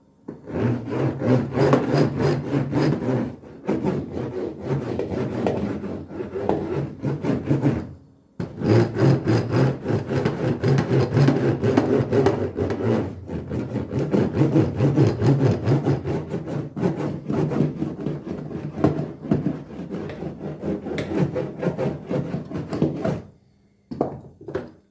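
A small hand roller presses sound deadening mat onto the floor of a 1954 Ford, producing close, repeated rubbing and scraping strokes in uneven bursts, with two brief pauses.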